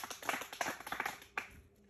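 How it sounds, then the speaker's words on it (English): Scattered clapping in a classroom, a handful of close claps with one sharper clap near the end, then a quiet tail. "Clap for yourself."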